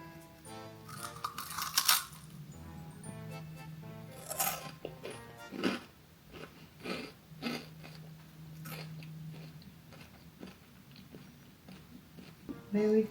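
A crunchy, sour British snack being chewed up close, with irregular crisp bites and crackles, brief pauses between chews, and low murmuring voices at times.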